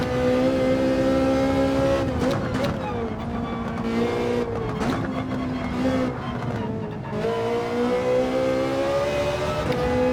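A Ferrari GT4 race car engine in Gran Turismo 7 drones loudly and steadily, its pitch rising and dipping as the throttle is worked through corners, with no talk over it.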